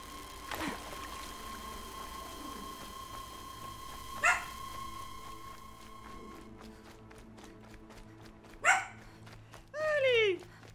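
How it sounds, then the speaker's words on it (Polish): A small dog barks indoors in short, separate bursts, about four times across the stretch, over a low steady background hum. "No, to piesek szczeka."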